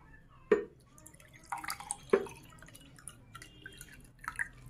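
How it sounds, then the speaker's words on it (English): Water is poured into a glass in a simple science demonstration with lemons and salt water; a few distinct splashing drips and trickles come close up, fairly loud against a quiet background. "Again pour water."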